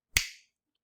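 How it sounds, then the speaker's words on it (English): A single sharp finger snap, crisp and close, fading quickly into silence. "I'll snap my fingers, and then you can feel it again in three"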